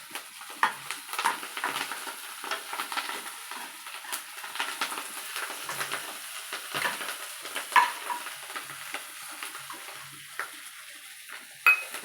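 Food fries in a pan while being stirred, a constant crackling sizzle layered with repeated scraping and clattering strokes at close range, with no voices.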